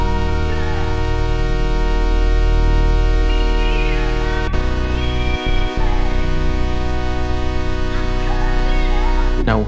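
A loud, dense beat layers a chopped vocal sample over stick bass, Juno synth chords and strings, sustained and full throughout with a brief dropout in the low end partway through.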